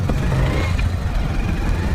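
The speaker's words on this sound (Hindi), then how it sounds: "अभी भी बाइक चल रही है" A motorcycle engine keeps running at a steady idle, with a low continuous rumble close by and no speech over it.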